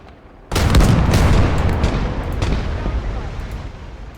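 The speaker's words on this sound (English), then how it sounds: "We're just going to keep the artillery pounding" Artillery in a wartime strategy game lands as a sudden loud blast, then a long rumbling roll of explosions and distant booms that slowly fades, with a voice speaking underneath.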